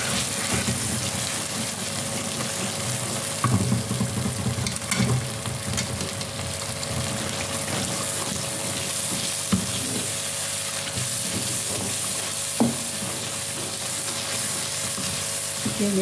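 A steady, loud sizzle rises from a pan of Kashmiri gandle saag as a cup of yogurt goes in, with stirring scrapes and occasional clinks running through the frying.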